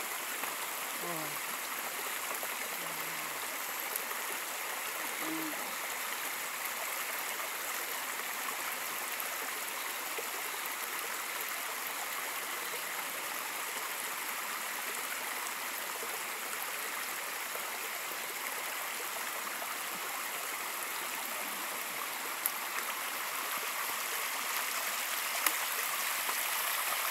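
A stream runs over stones in a rocky creek, a steady broad rush of water filling the whole stretch, with a couple of brief faint thuds near the end.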